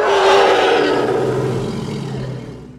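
The Predator creature from the film sequels lets out a loud, close, growling roar that starts at full strength and slowly fades over about three seconds.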